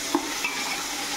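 Ginger garlic paste fries with onions in a pan, giving a steady close sizzle with a couple of brief stirring clicks, and no voices.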